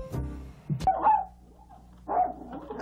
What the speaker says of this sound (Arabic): وهذا الكلب واحد منهم.